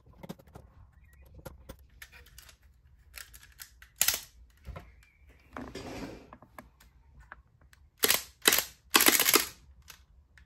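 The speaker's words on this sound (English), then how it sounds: "Testing rubber band shooting." A LEGO full-auto pistol firing rubber bands gives scattered mechanical clicks and ratchets, then a quick burst of sharp snapping shots near the end, close and fairly quiet with no talking.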